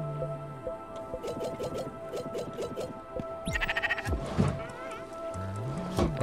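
Cartoonish sheep bleats from the video game Spiritfarer sound as a few short, wavering cries over a soft, tinkling game soundtrack, with small effects chiming in between.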